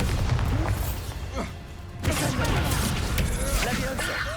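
The Bombarda blast spell goes off in Hogwarts Legacy, a heavy booming explosion bursting midway through amid ongoing combat noise and rumble, loud and close.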